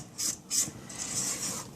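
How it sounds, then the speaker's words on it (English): Spatula scraping down the sides of a mixing bowl of French silk pie filling: two short rasping strokes followed by a longer steady scrape, close and fairly quiet. "I'm going to scrape down my side"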